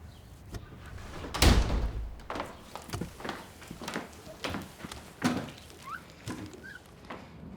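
A door is opened indoors in a dubbed drama scene, with a single sharp thump and rattle of the latch followed by soft shuffling and light knocks, fairly close and quiet.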